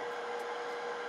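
An electric mixer whips cream at a higher speed, giving a steady, even, close whirring drone with no talking over it.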